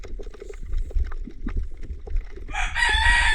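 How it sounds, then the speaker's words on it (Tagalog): Low muffled rumbling and shuffling give way to a loud rooster crow that rings out clearly near the end. "3 tulaok. Ibig sabihin, 3 manok rin."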